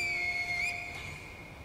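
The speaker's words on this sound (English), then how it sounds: "Can I use the finger whistle here on these ones?" A single sharp, high finger whistle from Sekiro: Shadows Die Twice rings out clearly, holding a steady pitch with a slight bend partway through before fading, with no talking.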